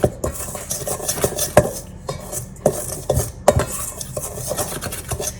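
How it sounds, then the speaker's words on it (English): Wet ingredients are mixed into dry ones, fresh-milled einkorn flour and walnuts, for banana bread in a bowl, with a spoon repeatedly scraping and knocking against the dish in loud, uneven strokes with no talking. "I'll add my wet ingredients to my dry ingredients."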